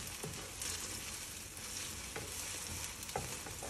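Egg for pad thai fries in a wok, giving a quiet, steady sizzle with a few soft scrapes and stirring knocks scattered through it, without any talking.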